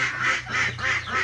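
Several Peking ducks on a farm quack in quick repeated nasal calls, loud and close, with a low steady hum underneath.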